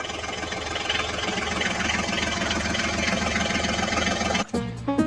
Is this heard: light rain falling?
no